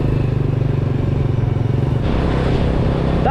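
A motorcycle riding along a rural road in Bulacan, Philippines, its engine a steady, close, pulsing drone with a light mechanical rattle. No one speaks.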